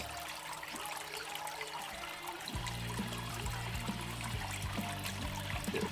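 Water rushes steadily through a small backyard gold prospecting sluice, a constant close wash that grows fuller and louder partway through as a pump-driven flow with a low motor hum picks up.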